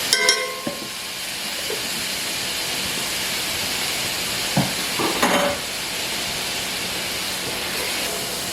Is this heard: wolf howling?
no